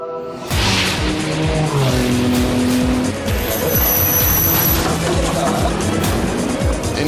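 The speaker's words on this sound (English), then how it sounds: "Benoit Tellier in the number 2 Audi has just come through there." A number 2 Audi prototype race car roars past at the 24 Hours of Le Mans 2011, a loud, close, continuous engine howl with tyre noise and layered track sound, no talking.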